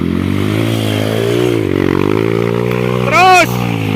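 Motorcycle engine droning steadily close by, its pitch sagging and then climbing as the throttle opens, with a sharp rising whine near the end and people talking over it.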